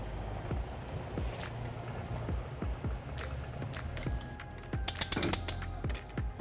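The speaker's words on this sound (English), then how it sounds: "We're going to be using our U-Haul exclusive hitch jack." A U-Haul hitch jack raises a heavy trailer hitch into place under a 2016 Ford Transit, making repeated close ratcheting clicks and clunks at a steady pace, with denser clattering near the end.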